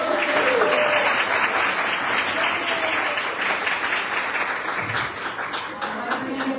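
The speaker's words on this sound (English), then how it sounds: "All right, a big round of applause." An audience at a Pay Equity Signing Day event applauds throughout, with dense, lively clapping that stays loud and gradually tapers slightly over several seconds.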